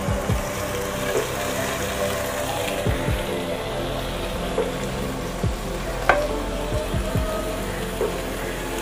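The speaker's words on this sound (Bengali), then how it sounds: "আমি এবারে সেই যে ম্যারিনেট করা মাংসটা আমি পেঁয়াজের ভিতরে দিয়ে দেব" Marinated beef fries with onions in a pan for a beef curry, giving a loud continuous sizzle with the scrape and clatter of stirring recurring every second or so, and one sharper knock midway through.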